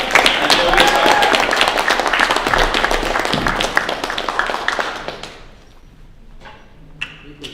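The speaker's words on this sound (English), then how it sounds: "big round of applause here, Honolulu" A Honolulu audience bursts into dense, loud applause that holds for several seconds, then fades away, leaving a few scattered claps and quiet hall noise.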